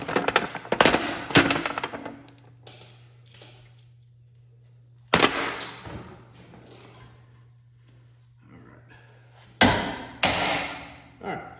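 Hammer blows knocking the lower ball joint loose from the steering knuckle of a 1998 Ford Crown Victoria: loud metallic strikes in a quick cluster, then single hits and another burst, with a low hum beneath.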